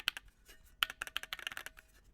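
Close, quick typing on an HMKB ortholinear mechanical keyboard, with a rapid run of crisp, clacky keystrokes at an uneven pace and a few sharper, louder strikes.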